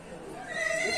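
A horse neighing at a livestock market where horses, foals and young stock are sold, a short rising whinny heard amid voices and crowd noise.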